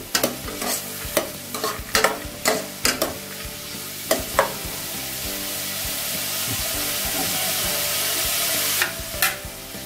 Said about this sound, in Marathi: इकडे कांदा फ्राय होईपर्यंत बघू शकता